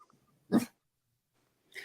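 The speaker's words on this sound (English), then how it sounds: "Y'all hear him barking at me?" A dog gives a single short bark, close and fairly loud, then a quieter second bark after a pause of over a second, with near silence between.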